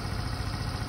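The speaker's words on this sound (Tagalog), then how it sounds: "Kaya pakinggan nyo yung makina." A Mio Gear 125 scooter engine bored up to 135cc idles close by with a steady, even, buzzing putter and no talking over it.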